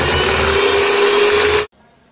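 An electric mixer whirs at a steady high pitch, beating vanilla sponge cake batter close up for over a second before cutting off abruptly into near silence.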